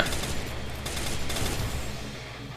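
Gunfire in the mobile battle-royale game Free Fire, rapid overlapping shots forming a continuous rattling burst, loud and steady throughout with no talk.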